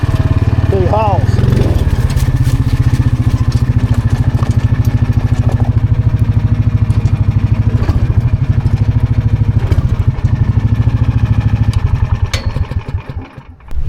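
A 460cc big block engine swapped into a Yerfdog Spiderbox buggy runs close and loud with a rough, chugging idle and a few throttle blips, settling and cutting off near the end.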